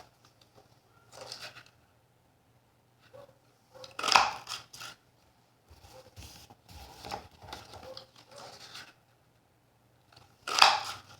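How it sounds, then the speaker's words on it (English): A paper balloon punch cuts shapes out of colored cardstock, giving sharp clicks and crunches in a few separate bursts spaced across a quiet tabletop scene. "we will take the balloons, or the balloon punch, and we're going to punch out a set from each color"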